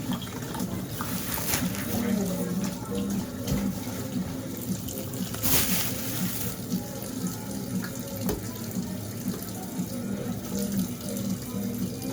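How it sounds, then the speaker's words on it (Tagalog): Tap water runs steadily into a sink while small tilapia fish are washed under it, with splashing and handling noises through the flow and occasional soft sounds. "Hugas tayo ng ating tilapia."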